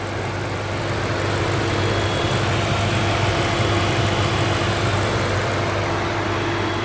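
A 2018 BMW M550i M Performance with a twin-turbo 4.4-litre V8 idles with a steady, low, even hum, continuous and unchanging throughout.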